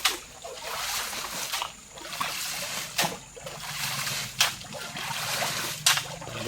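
A shallow stream flows steadily after sand is dug out to strengthen its current, a continuous trickling wash with occasional splashes and scrapes, fairly close and loud without any talk.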